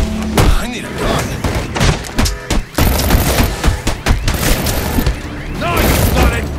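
Gunfire in the video game Batman Arkham Origins: rapid repeated shots and heavy booming impacts, loud and close, continue through the clip under in-game voices talking.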